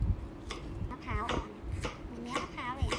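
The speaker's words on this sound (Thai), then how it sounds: "นำยอดมะพร้าวที่ได้มานะคะ มาล้างให้สะอาดแล้วก็รอให้เสด็จน้ำสักนิดนึง จากนั้นก็มาทำการหั่นค่ะ" Young coconut palm shoots being chopped with a knife, giving a series of crisp, steady chops close by while someone talks over them.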